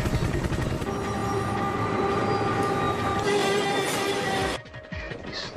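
A train rumbles loudly along the tracks with grinding, rattling wheel noise and a steady tonal whine, then the roar drops off abruptly near the end.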